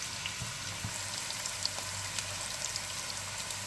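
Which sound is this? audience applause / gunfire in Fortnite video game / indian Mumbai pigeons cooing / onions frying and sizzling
onions frying and sizzling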